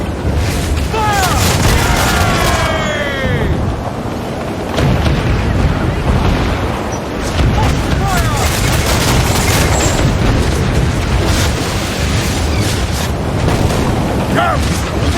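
Ship cannons fire in repeated heavy booms during a naval battle in Assassin's Creed IV Black Flag, loud and close, while crew voices shout over the blasts.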